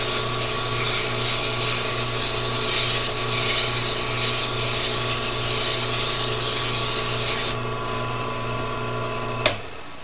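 Sandpaper at 320 grit rubbing a wooden pen blank as it spins on a lathe, a steady continuous hiss over the motor's low hum, running for several seconds before easing off, then a brief sharp click near the end.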